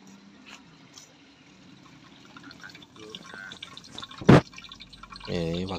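Water runs and drips from a cooking tap at a campsite in Gunung Kemuning, Karanganyar, a soft trickle with a louder splash near the end, amid faint outdoor background.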